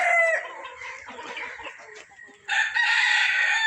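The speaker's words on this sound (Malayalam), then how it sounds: "നല്ല തനി നാടൻ പൂവൻ കോഴികൾ, ഉള്ളം പൂവൻ കോഴികൾ" Native roosters at a farm, a nearby loud crow followed by clucking and another bright crow starting, distinct and close with no talk.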